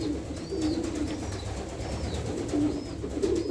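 Domestic pigeons cooing softly and repeatedly on a Sunday morning, the low calls rising over a steady background hiss, with faint higher chirps now and then and no talk.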